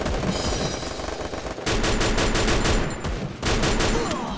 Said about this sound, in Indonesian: Mereka pada pakai shotgun, guys.